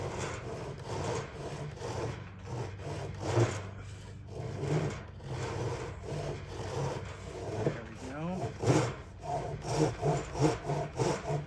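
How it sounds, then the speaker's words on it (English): A hand saw cuts a slot into wood for a guitar heel, strokes rasping back and forth in a steady rhythm, fairly close, with some light background noise. "I'm cutting to my line, tilting the saw up a little bit"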